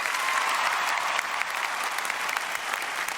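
A crowd applauds, a loud, dense wash of clapping that holds steady throughout without breaking.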